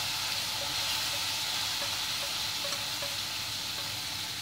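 Green chilies and cauliflower tossed into a hot pan with oil, hing and turmeric, giving a steady, soft sizzle and hiss that runs evenly throughout, with faint stirring clicks and no voices.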